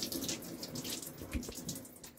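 Water drips and trickles from a thin cloth as it is twisted tightly and wrung out. The splashing is close and continuous, with soft patters and no voices.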